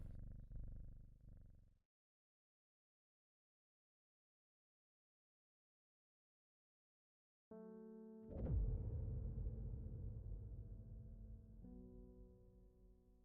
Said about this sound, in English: Pet the kitty, pet the kitty, pet the kitty,